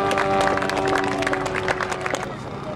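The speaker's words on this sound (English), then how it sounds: "shall we give him a round of applause" Audience clapping at an RC model airshow, a steady wash of applause from a crowd sustained throughout, with a faint voice and background noise mixed in.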